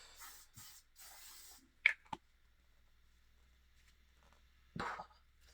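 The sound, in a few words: hairspray being sprayed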